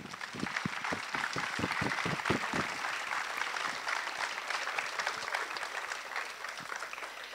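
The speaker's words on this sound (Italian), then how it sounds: "Per tutti loro un applauso doveroso e sentito." Audience applause at an amateur theatre company's comedy show, opening with a few sharp near claps over a crowd of clapping that continues steadily and grows more diffuse.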